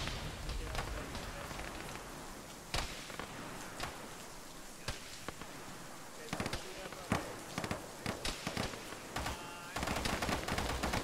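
Gunfire in a military video game, ShackTac squad play: scattered rapid cracks and bursts of shots, some distant, over a constant hiss of background noise, with voices talking over radio.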